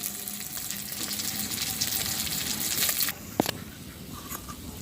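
Pangasius fish pieces refrying in hot oil in a wok make a continuous dense sizzle and crackle, with a few brief utensil taps near the end.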